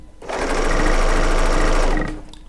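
A serger sewing machine stitches quilt pieces in a short, steady, loud burst of rapid mechanical hammering that starts and stops cleanly.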